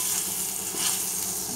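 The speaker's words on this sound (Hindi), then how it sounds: "अभी मैंने ये इसको बघार डाला, अब ये मेरी डिश तैयार हो गई है।" Hot baghar (tempering) poured over curry pakora sizzles in a steady, bright hiss that stays close and even throughout, with no talk.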